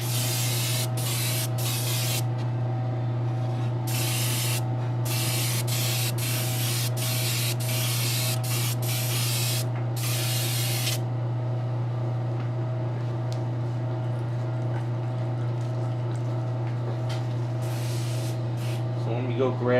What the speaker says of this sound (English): I'm just gonna mist some flat varnish on top of it